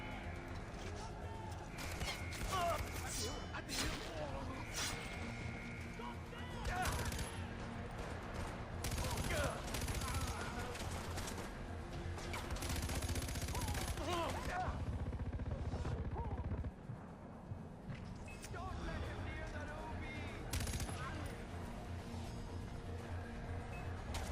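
Gunfire in the video game Far Cry 4, dense repeated shots and bursts running nearly continuously for much of the stretch, loud and close, with someone talking over parts of it.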